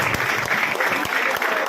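A large audience bursts into dense, sustained applause to welcome someone at an event honouring a para-shooting gold medallist, the clapping loud and continuous without a break.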